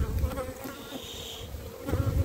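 Honey bees swarm around a beehive, a dense continuous close buzzing hum with individual insects droning past.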